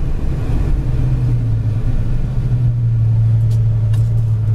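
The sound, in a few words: 1975 Dodge Dart Sport braking at high speed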